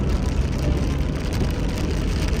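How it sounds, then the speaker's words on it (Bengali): Rain pours during a highway drive, heard as a dense, continuous wash of hissing mixed with a heavy low road and vehicle rumble. "আজ সারাদিন বৃষ্টি"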